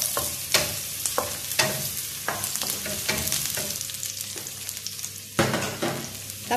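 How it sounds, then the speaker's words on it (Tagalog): Garlic sautéing in a pan until brown, a steady close sizzle broken by sharp scrapes and clanks of a utensil stirring against the pan, with no talking. "Sote-sote lang hanggang mag-brown."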